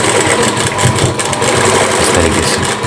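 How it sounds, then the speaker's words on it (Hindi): Electric sewing machine stitching the seam of a Rajputi suit kurti, a fast, steady mechanical whir and needle clatter, close and loud, running without a break. "इसके बाद हमें सिंपली दोनों को आमने सामने इस तरीके से सिलाई लगा देनी है"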